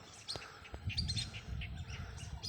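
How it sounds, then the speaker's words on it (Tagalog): Wild ducks calling at a distance, short repeated calls scattered over a steady outdoor background hum. "daming mga ibon na wild duck"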